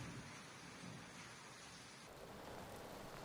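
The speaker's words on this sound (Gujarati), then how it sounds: "ભારે પવન અને વીજળીના કડાકા ભડાકા સાથે વરસાદ ખાબક્યો" Heavy pre-monsoon rain in Gujarat, India, pours steadily with a constant dense roar, strong wind, thunder rumbling low underneath; no voices.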